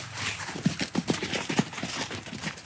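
Hooves of a horse clip-clop in an uneven series of sharp, fairly close strikes as the animal is kept moving, with a faint snort or whinny mixed in against outdoor background noise.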